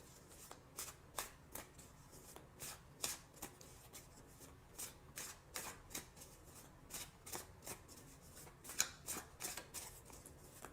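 Tarot cards being shuffled by hand, a steady run of soft, rapid riffling flicks repeating for about ten seconds, quiet and close with no talk.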